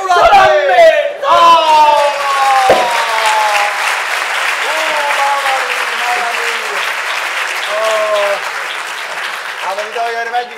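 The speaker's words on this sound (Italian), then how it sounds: "Applausi! Applausi!" A theatre audience applauds during a comedy performance, a sustained bed of clapping heard under loud overlapping shouted voices and cheers.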